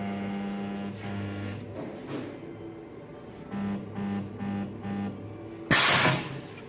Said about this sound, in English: So it's high current, low voltage, so you can even hold it while you're welding.